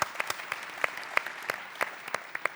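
Audience applause at a leadership talent summit, a sparse scattering of individual claps rather than a full ovation, fairly quiet and unaccompanied by voices.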